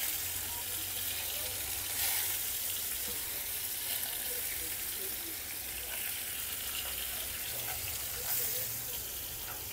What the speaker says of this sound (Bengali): তেলটা গরম হয়ে গেছে, তো এখন মাছটা ছেড়ে দিব।